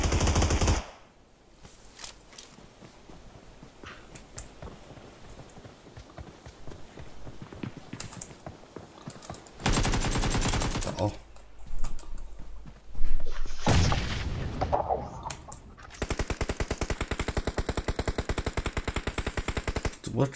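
Automatic gunfire in a PUBG-style battle royale game, rapid rattling bursts with a long sustained stretch at the end, plus scattered shots and game noise in between.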